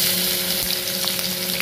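Garlic frying in a pan for white chicken, a steady close sizzle with faint scraping and crackle throughout, no voices.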